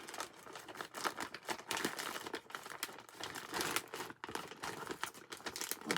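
Plastic packaging from a Temu haul is peeled and crinkled open close by, a continuous run of soft rustling and crackling pulls with no talk.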